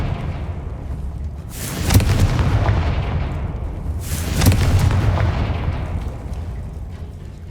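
Two heavy booming blasts from the Confringo fire spell in Hogwarts Legacy on PS5 land about two and a half seconds apart. Each one rumbles loudly and fades slowly over a low background.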